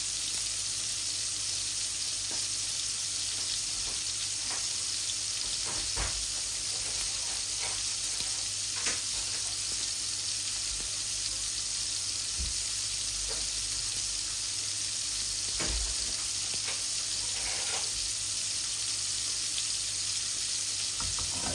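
Cumin seeds sizzling in hot oil in a home kitchen, for a rohu fish curry with radish and carrot; a steady, close frying hiss runs unbroken throughout with occasional small pops and clicks, and no talking.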